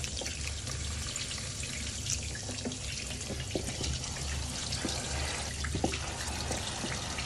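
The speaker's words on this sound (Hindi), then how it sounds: "आप धोते समय इसे ना इस तरीके से स्क्वीज करिए सारा चुने का पानी निकल जाएगा" Soaked ingredient, lime-soaked pieces for a sweet peetha, being squeezed by hand over a sink, with steady water trickling and dripping close by under a faint running background hiss.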